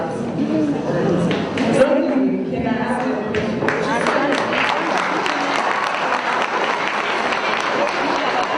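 Stadium crowd at a football match cheering and applauding a player's heel flick, a broad roar with scattered claps rising then holding steady, with a commentator talking over it.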